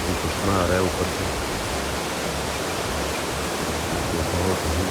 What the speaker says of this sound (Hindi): कुदरती चश्मा आ रहा है ऊपर से